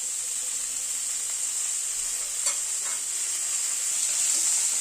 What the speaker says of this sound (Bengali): আলু আর ফুলকপিটাকে এই মিনিট 2 সময় ধরে একটু ভেজে নিলাম।